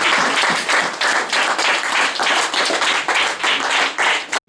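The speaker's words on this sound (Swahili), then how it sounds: "Tumpe Bwana Yesu makofi" A church congregation claps in unison during a Swahili service, a dense, loud burst of hand claps with a steady pulsing rhythm that runs for several seconds before stopping abruptly.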